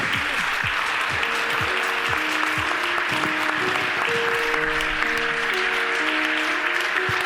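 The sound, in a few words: audience applause at a fashion show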